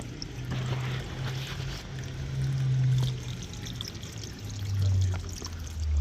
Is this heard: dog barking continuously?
no